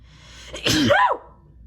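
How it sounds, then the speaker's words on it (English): A single close sneeze: a short indrawn breath, then one sharp, loud burst that rises and falls in pitch before quickly fading to quiet. "I have to sneeze."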